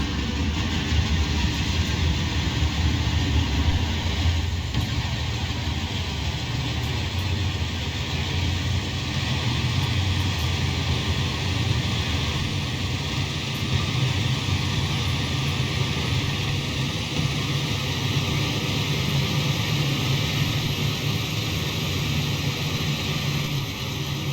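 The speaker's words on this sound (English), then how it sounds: "The high pitch hissing, that's coming from the GP50 way-by-train class." EMD GP50 diesel locomotive in Train Simulator Classic, a steady engine drone with a thin high-pitched hiss running over it, continuous and unchanging throughout with no talk.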